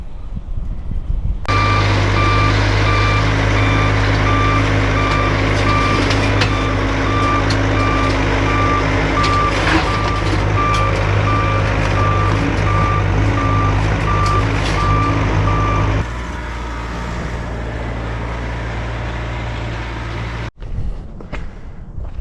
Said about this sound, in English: I got the dump truck backed in here